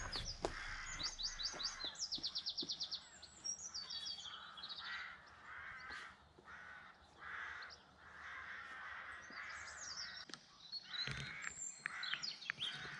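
Rooks and other corvids caw repeatedly in open country around a yard with ivy-covered trees, several birds calling at moderate distance, with bursts of rapid chirping and cawing overlapping, no talking.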